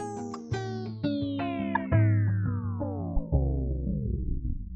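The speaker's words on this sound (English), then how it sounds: "giving it the crush destroyed sound." A bit-crushed, destroyed-sounding effect with a low pass filter automated from fully open down to about 250 hertz, pitched tones sweeping steadily downward with choppy stepped hits over nearly five seconds, loud and alone.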